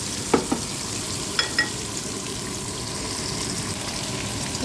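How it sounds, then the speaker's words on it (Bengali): Onions fry in a pan with a steady, low sizzle, broken by a few sharp clinks of a utensil against the pan near the start. "একটু ভাজা ভাজা হয়ে গেলে পেঁয়াজটা নরমের জন্য ওয়েট করতেছি"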